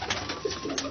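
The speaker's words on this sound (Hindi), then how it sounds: "यहाँ भी काफ़ी कबूतर हैं अली वाले।" A pigeon of the Ali wale breed coos softly from inside a cage, a brief, close, low murmuring sound.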